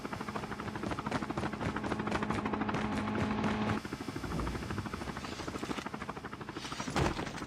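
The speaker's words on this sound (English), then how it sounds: "There's a helicopter above. You can hear that." A helicopter rumbles steadily overhead in the mobile shooter Call of Duty: Mobile during a battle royale match. It is a loud, continuous drone mixed with bursts of gunfire and other game effects, with no talking.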